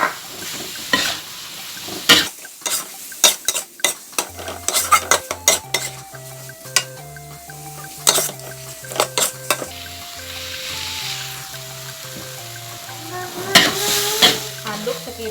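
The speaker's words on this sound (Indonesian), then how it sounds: "Aduk hingga rata sampai kira-kira wangi, kurang lebih semenit" Ingredients for fried rice vermicelli with meatballs and sausage are stir-fried in a pan, with a soft sizzle under frequent sharp clinks and scrapes of a metal utensil against the pan, and a melody playing in the background.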